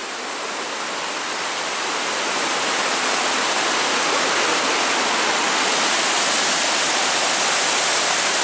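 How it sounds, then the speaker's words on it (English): Hull's Creek Falls pours in a steady, broad rush of falling water, loud and continuous, swelling slightly in the first few seconds and then holding even, with no voices over it. "There's the waterfall right up there."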